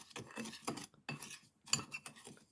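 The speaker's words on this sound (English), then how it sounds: "let's go ahead and just mix up all this goodness." Dry paprika and onion powder are stirred together for a pork chop rub, making soft scraping and light clinking strokes of a utensil against a bowl in three short bursts.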